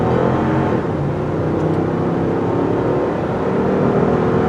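A 2021 Lexus GX-460 SUV with a V8 engine accelerates from 0 to 60, giving a loud, steady engine roar with a smooth rising drone and road noise throughout and no talking.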